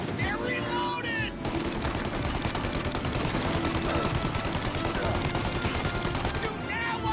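A shootout in Mafia Definitive Edition brings dense, continuous rapid gunfire from several guns over about seven seconds, with shouting voices mixed in at the start and end.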